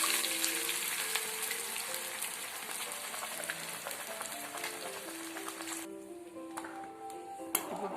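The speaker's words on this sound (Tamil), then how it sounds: "இதில் நம்ம அரைச்சி வச்ச மசாலா ஊற்றிக்கலாங்க." Ground masala paste sizzling and crackling in hot oil with curry leaves for mutton kola urundai kulambu, a steady close frying hiss that eases toward the end.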